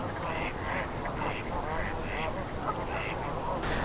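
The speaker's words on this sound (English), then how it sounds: "Those were probably domesticated ducks or escapees that are out here." Mallards and domesticated ducks quack repeatedly at a wintry lake, a steady run of nasal calls at moderate distance over a constant wash of outdoor noise.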